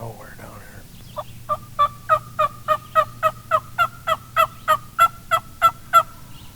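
An Eastern wild turkey gobbles in a long unbroken series of about eighteen rapid, evenly spaced calls, fairly close and loud, growing slightly stronger toward the end over a low background hum.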